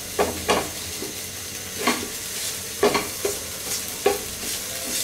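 Close, steady sizzle of egg frying in a pan, punctuated by roughly eight clinks and scrapes of a spoon stirring it at uneven intervals, with no one speaking.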